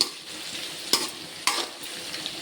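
Frying in a pan for a dried fish curry, a soft steady sizzle broken by two sharp scraping stirs of a utensil against the pan, close and alone without talk.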